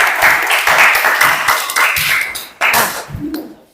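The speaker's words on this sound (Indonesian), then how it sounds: "Tepuk tangan buat kelompok 3." Classroom applause for a student group after their presentation, a short burst of clapping from a small class, fairly close and uneven, with a few louder isolated claps near the end and a faint voice.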